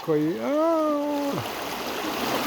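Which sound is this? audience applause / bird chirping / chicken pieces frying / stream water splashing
stream water splashing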